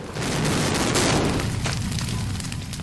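A special-effects explosion staged on an airplane on a film set roars as a loud, sustained blast with rumbling debris, dense and close for about three seconds.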